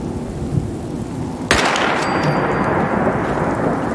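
A thunderstorm in Fallout 4 VR: steady heavy rain hisses throughout, then a loud, sharp thunderclap cracks and rolls on into the continuing downpour, with no voices.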